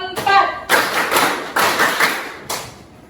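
A class group claps together in short bursts that follow a count, with gaps between them, in a classroom lesson, while voices speak alongside the claps.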